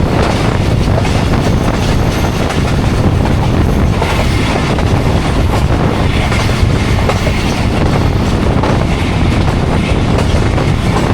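The Jaffar Express passenger train runs between Attock City Junction and Rawalpindi. A loud, continuous rumbling roar with rattling clatter is heard from on board, steady for the whole stretch.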